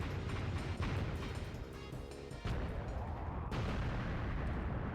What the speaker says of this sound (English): And he explode.